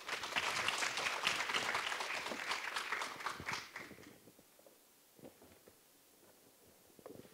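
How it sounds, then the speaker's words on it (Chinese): An audience at a Fubon lecture event on net-zero transition applauds to welcome a company chairman to the stage: dense, sustained clapping that tapers off and gives way to near silence. "让我们掌声欢迎蔡董事长"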